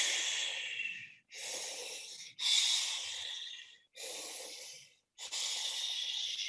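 A person imitates breathing through an oxygen mask, with five loud, close, breathy inhale and exhale sounds separated by short pauses and no other speech.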